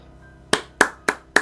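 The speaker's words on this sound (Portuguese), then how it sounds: "Aplauso pro cara, hein? Aplauso pra ele." One person claps by hand close to the mic while watching Gamescom Opening Night 2023: four sharp, evenly spaced claps in a slow, deliberate rhythm over near silence, with no talking.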